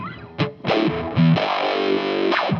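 Epiphone Sheraton Stealth electric guitar played through distortion and a high-pass filter effect, giving thin, buzzy notes and chords with a few plucked attacks and a sustained sweep. It sounds loud and close, with no talking.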